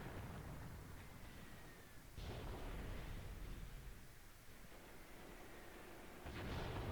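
Mortar rounds from Graviteam Tactics thump and burst amid a constant rumble of battle, two or three dull, distant blasts standing out from the low, steady roar.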